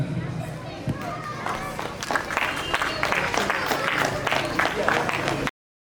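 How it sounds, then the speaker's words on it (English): Crowd applause at an inter-school photography contest prize ceremony, a dense clapping wash rising over background chatter and children's voices, building through the middle and cutting off abruptly near the end. "of huge round of applause, guys."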